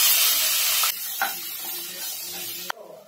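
Cauliflower frying in hot oil in a pan gives a loud, bright hiss for about a second. It then drops to a quieter, steady sizzle with a soft knock partway through and a sharp clack near the end.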